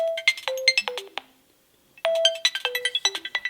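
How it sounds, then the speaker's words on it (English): Nokia Lumia 900 ringtone: two identical bright, chiming electronic melodic phrases, each a quick run of descending notes ending on a held tone, separated by a short silence, clear and alone. "the ringtones, I just think, like, you know, this is my ringtone."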